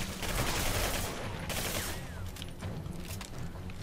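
Gunfire in the shooter Singularity: dense, rapid bursts of shots and heavy blasts, loud and continuous throughout, with no talking.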